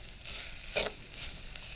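Coconut oil on a stovetop being stirred, a soft steady sizzle with a brief scrape of the spoon near the middle, close and quiet.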